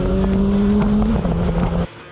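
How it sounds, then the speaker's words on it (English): Motorbike riding on a highway with wind noise, a steady loud engine drone with a sustained low tone and broadband wind rush that cuts off abruptly near the end. "It handled wind noise on a motorbike on a highway."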